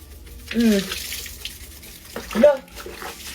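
Water poured into a dirty bowl, two short splashy bursts of pouring about two seconds apart, close up and moderately loud, with faint voices in the background.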